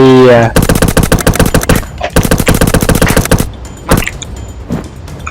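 Rapid automatic gunfire in the zombie video game Zumbi Blocks 2, two long loud bursts of machine-gun shots followed by a few scattered single shots and thuds.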